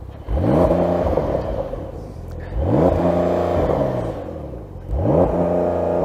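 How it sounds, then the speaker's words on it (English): A Porsche 911 sports car engine revs hard three times, each burst climbing in pitch then dropping back to a rumbling idle between them, loud and close. "So start up the Porsche and give it some revs."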